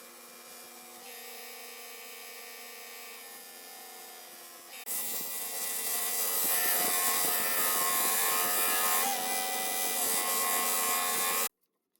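A Grizzly 2x42 knifemaking belt sander runs with a steady whine, then grinds material with a loud, harsh, sustained rasp for several seconds before cutting off abruptly.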